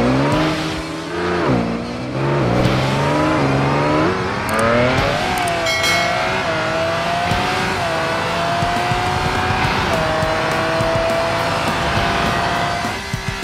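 A Ferrari LaFerrari engine in the BeamNG Drive driving game revs loudly and steadily, its pitch climbing through repeated upshifts, with a faint tire squeal now and then.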